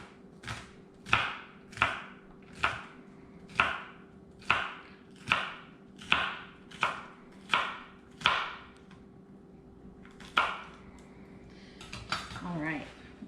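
A knife chops vegetables on a cutting board for chorizo bean dip, about a dozen crisp, evenly spaced strokes close up, followed by a brief clatter and no talking.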